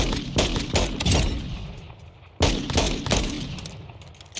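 Weapon fire at the shooting range in Call of Duty Modern Warfare 2 (2022), two close bursts of rapid sharp shots, each trailing off into an echoing tail, with no talking.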